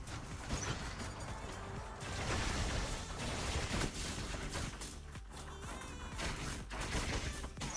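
Dense, continuous weapon fire from robots battling in the mobile game War Robots, loud and chaotic with crashes and mechanical clatter throughout, a voice faintly underneath.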